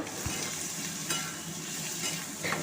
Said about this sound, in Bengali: পেঁয়াজগুলো এবার ভাজতে থাকলাম